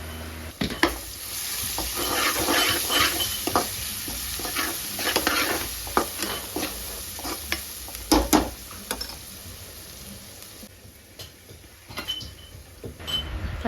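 Ginger garlic paste with chilli and onion frying while being stirred, a continuous crackling sizzle broken by repeated spatula scrapes and taps against the pan, close and steady, with no talking.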